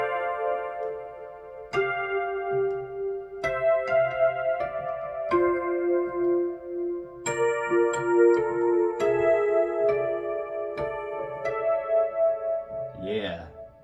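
Roland Juno synthesizer plays a melody with sustained chords and a gliding lead line, steady and mid-loud, ending in a quick rising sweep.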